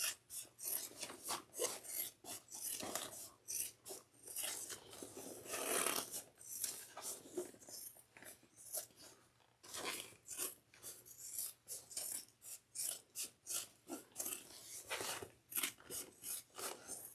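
Scissors trim tote bag material backed with sticky foam down to a quarter-inch seam allowance, a quiet, close run of repeated rasping snips in an irregular rhythm, with no talking.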